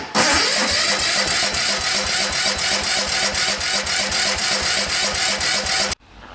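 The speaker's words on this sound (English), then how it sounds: "See if it pumps anything through. I think it's pumping now." A 1960s hydraulic 6x6 tank, long left sitting, with its freshly cleaned carburetor and fuel system, as the pump runs: a loud, steady mechanical chatter with rapid regular ticking, cutting off abruptly near the end.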